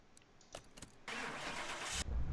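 A car engine cranks and catches on a dyno, followed by a steady, fairly faint run.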